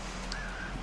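Birds cawing in the Albert and Otto video game, a short crow-like call rising briefly over a steady low game background hum, with no talking.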